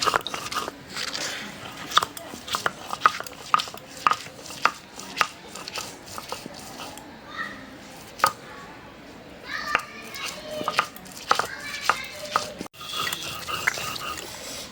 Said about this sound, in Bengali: এখন আদা রসুনটাকে বাইটে নেই।